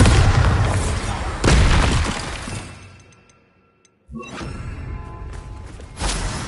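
Spell blasts from the Hogwarts Legacy video game: a booming, shattering explosion opens, then after a near-silent gap a second crack and further loud blasts follow, forceful and close.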